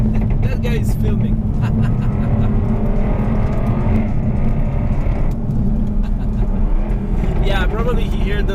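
A Jaguar F-Type R sports car drives past with a loud, continuous engine roar that rises and falls, and voices talk over it throughout.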